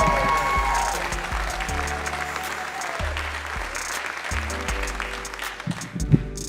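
A comedy club audience applauds a comedian taking the stage, loud dense clapping that runs without a break for several seconds and eases slightly near the end, with no speech over it.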